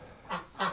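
Ducks wintering on straw in a cold, dry shelter give two short honking quacks about a third of a second apart, fairly close and alone.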